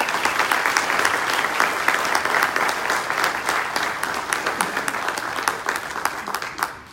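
Audience applause at a circuit court clerk candidate forum in Carrollton, Kentucky: a full room clapping steadily and loudly for about seven seconds, dense and sustained before tapering slightly at the end.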